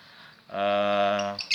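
A lovebird gives one loud, harmonic chirping call of about a second, close and clear, followed by a brief sharper chirp at the end, with no talk over it.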